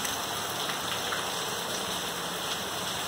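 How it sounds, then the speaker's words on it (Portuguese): Fine, light January rain falls steadily as a continuous soft patter and hiss, close and even throughout with no voices. "A chuvinha de janeiro. Chuvinha fininha."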